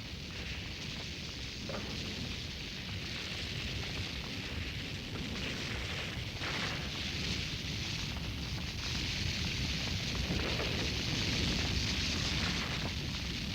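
A fire burns with a steady low roaring rumble and faint crackle, continuous and moderately quiet throughout, with no voices.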